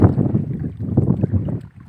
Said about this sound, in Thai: บรรยากาศดีมากๆ ลมพัดเย็นๆ